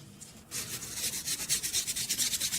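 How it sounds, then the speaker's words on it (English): A scrub head or cloth scrubs dirt off a tire, a close rhythmic rubbing of quick back-and-forth strokes, about a dozen, starting after a brief quiet moment. "Then you can also do it with a slightly gentler tool, for example with a scrub head, or try it with a cloth."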